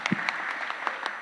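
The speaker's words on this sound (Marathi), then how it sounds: "आता एकदम वाजव टाळ्या सगळ्यांसाठी" An audience claps at a leadership session in Nashik, a short burst of applause with scattered individual claps, moderately close and without talk.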